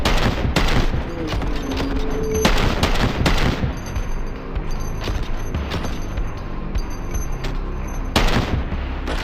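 Rapid pistol gunfire in the VR shooter Hard Bullet: loud, sharp shots fire in quick clusters near the start and again toward the end, with quieter game noise in between.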